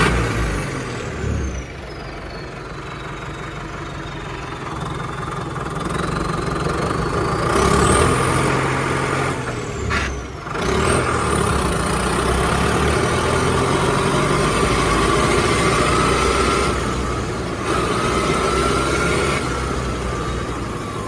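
A Sonalika 60 RX Turbo tractor engine idles with a deep, steady chugging rumble, its pitch briefly rising and falling as it revs, close and continuous.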